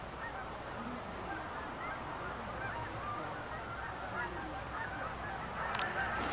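A flock of waterfowl calls over a duck-hunting spot, with dense, continuous honking and quacking that sounds like many birds at a distance. The chorus stays steady throughout, with no talk.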